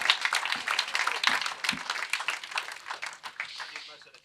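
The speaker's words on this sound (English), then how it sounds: "let's have a clap for that, please." An audience at a live launch event in a jazz club applauds, a dense burst of hand clapping that rises quickly and then thins out over a few seconds, with some voices mixed in.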